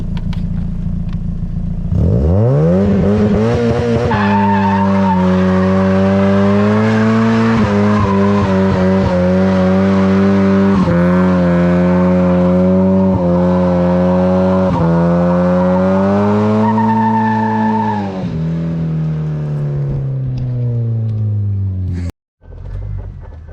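A car doing a burnout roars as its engine revs up and holds high, with tires squealing in long sustained wails that rise and dip, loud and close, before cutting off abruptly near the end.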